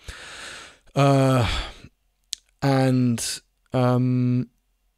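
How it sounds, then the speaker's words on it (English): A person breathes heavily in a few long, loud, voiced sighs and exhalations, close to the microphone, separated by short silences. "I keep breathing heavily"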